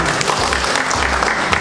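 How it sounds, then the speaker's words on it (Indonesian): Audience clapping at a commissioner inauguration ceremony, a steady dense wash of hands applauding throughout, moderately loud and fairly close, with no clear voices above it. "Kita beri tepuk tangan aplaus yang mulia."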